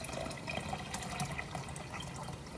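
Water poured into ginger bug liquid to dilute it, a soft, faint continuous trickle and splash of liquid filling a container, with no voices.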